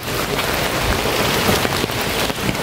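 Steady heavy rain falls outdoors near a river, a dense unbroken hiss of drops on surfaces with no voices.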